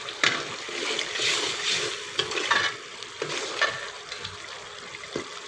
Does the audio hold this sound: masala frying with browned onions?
yes